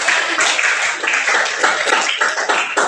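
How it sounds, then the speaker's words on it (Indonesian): A classroom of Indonesian high school students claps together in a dense, continuous burst of hand claps that keeps a steady, close level throughout, with no talk over it. "beri tepuk tangan dulu"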